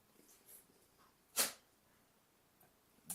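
A single sharp sneeze in a backyard, loud and close, standing alone amid quiet room tone with a couple of fainter short bursts around it.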